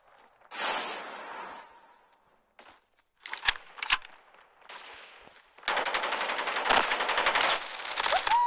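Gunfire in a shooter video game: a few scattered single shots early, then a long, loud sustained burst of rapid automatic fire filling the second half, with no talk over it.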